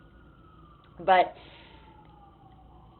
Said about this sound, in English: if you hear those sirens, I am in New York City, so that's what that is